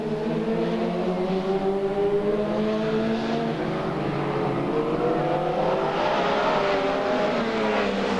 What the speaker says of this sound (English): So the Bumper to Bumper Farm Action Superstocks continue on their way.